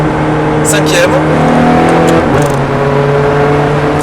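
A car engine drones loudly and steadily on a driving course under light throttle, its tone shifting as it gains speed, with someone talking over it throughout.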